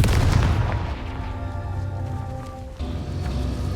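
A Confringo blasting spell going off in Hogwarts Legacy: a loud booming burst at the start that fades into a low rumble, with a steady musical tone underneath and a smaller thud near the end.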